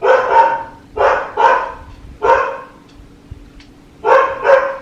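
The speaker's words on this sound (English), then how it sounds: "My dog." A dog barks at close range in loud, sharp barks, some single and some in pairs, spaced across the span with brief quiet gaps between them.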